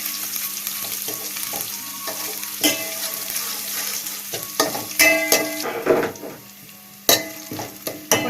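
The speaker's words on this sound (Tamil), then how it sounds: "இதை வந்து நல்லா பொன்னிறமாக வர அளவுக்கு வதக்கலாம்." Ginger and garlic sauté in a pan with a bright, steady sizzle. Sharp scrapes and clacks from stirring break through at irregular moments.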